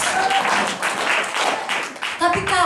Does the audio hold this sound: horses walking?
no